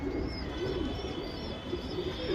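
A Surmi pigeon coos in soft, low repeated calls, close by, over a steady background hum with no talking.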